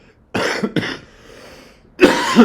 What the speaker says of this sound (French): cette toux des cinémas ne s'en va pas en ce moment, mais elle partira